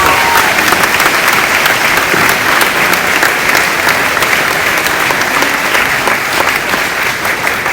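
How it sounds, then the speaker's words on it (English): A crowd applauds athletic staff at a school sports gathering, with loud, dense, continuous clapping that holds steady throughout with no break. "So let's give a round of applause for our staff."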